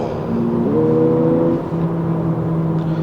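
Lexus UX 250h F Sport hybrid engine revving up, a steady tonal drone that climbs in pitch, holds high, then settles to a lower sustained hum, loud and close with no talking.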